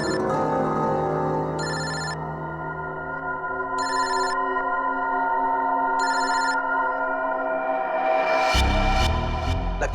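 A telephone rings in a TV crime drama, three evenly spaced bursts of electronic ringing over a steady, sustained musical drone that swells near the end.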